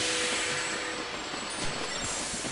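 Steady rolling rumble of a train running on rails in the Sid Meier's Railroads game, a continuous mid-level wash of wheel and track noise with faint high whine, heard alone without talk.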